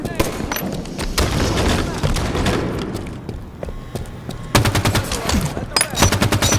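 Rapid gunfire and explosions in the shooter game Halo 5, dense bursts of automatic fire, a lull, then loud rattling volleys, with game voice lines spoken over the battle.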